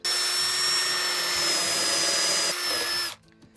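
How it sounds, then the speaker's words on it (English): A power drill with a 1/2 inch speed bit boring weep holes in the bottom of a wooden rolling planter, one continuous loud whining drill run of about three seconds that stops abruptly. "next step is to drill the weep holes in the bottom so this thing can drain"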